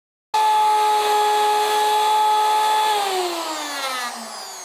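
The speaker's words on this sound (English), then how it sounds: "I've got a 5/8 inch cutting bit in the ye-old router. I'm just going to run it along the straight edge" Router fitted with a 5/8 inch bit cutting melamine along a straight edge: a sudden loud high whine starting abruptly, holding steady, then its pitch dropping as the cut loads the motor near the end.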